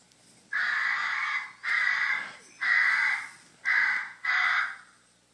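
A bird gives five loud, harsh caws in an even rhythm, each about a second long with short gaps between.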